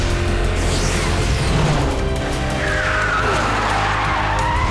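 In an animated Power Battle Watch Car episode, a toy watch car fires its booster engine and speeds off, a loud, steady engine roar with skidding tire squeals and whooshing sweeps.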